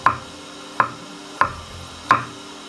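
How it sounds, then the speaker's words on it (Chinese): A knife slices bamboo shoots on a cutting board, four sharp, evenly spaced chops ringing out close and clear, with no talking. "然后要改刀成小粒啊，好，切片"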